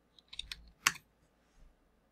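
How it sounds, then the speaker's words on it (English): A computer keyboard clicks through a short, quiet burst of typing, a handful of keystrokes ending in one sharper press, close by with no talking. "if I were to type in a random URL ending"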